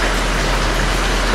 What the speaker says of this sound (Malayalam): ഇവർ പോകുന്ന ദിവസം രാവിലെ നല്ല സൂപ്പർ മഴയായിരുന്നു കേട്ടോ, നിർത്താതെ പെയ്യുന്ന മഴയായിരുന്നു കുറേ നേരത്തേക്ക്.